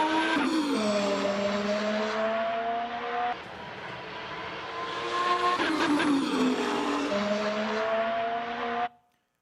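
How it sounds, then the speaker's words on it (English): Formula 1 race cars scream past at high speed, loud engine whines rising and falling in pitch as each car passes close by, several passes in succession before cutting off abruptly. "So here's a small snippet of an F1 race."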